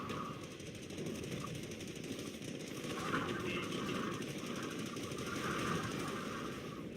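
Rapid bursts of Company of Heroes gunfire rattle on continuously in a 4v4 match, a dense, fast staccato with a rumbling low end, fairly distant and constant.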